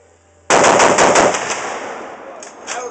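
Target shooting outdoors: a sudden, loud burst of about five rapid gunshots fired in quick succession, followed by a long fading echo and a couple of fainter later cracks.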